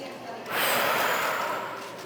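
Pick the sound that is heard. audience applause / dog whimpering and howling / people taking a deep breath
people taking a deep breath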